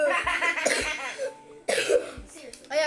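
Several sharp coughs from someone who is sick, mixed with talk over racing game audio from Forza Motorsport 6, loud and close with a few separate bursts.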